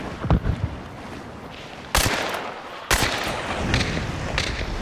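Gunshots in the Hunt: Showdown game: a few loud, separate booming reports, each followed by a rolling tail, over a low background rumble with no talk.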